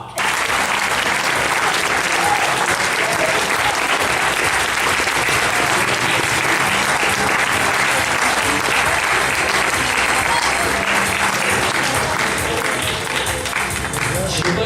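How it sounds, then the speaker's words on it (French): An audience at a Telethon 2014 awards announcement breaks into sustained, dense applause for a third-place winner, loud and even throughout with no break, with a faint voice underneath. "À la 3e place, merci d'applaudir Sarah."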